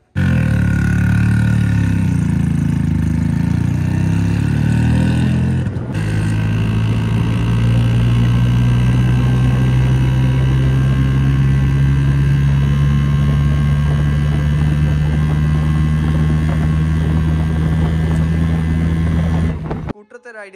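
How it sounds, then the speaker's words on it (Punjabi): A Bajaj Chetak scooter engine drones loud and steady while riding, a constant close hum with wind rush and a brief dip in the middle before cutting off at the end. "ਸਕੂਟਰ 'ਤੇ ਰਾਈਡ ਕਰਕੇ ਹੀ ਆਪਾਂ ਘਰ ਆ ਗਏ ਸੀਗੇ"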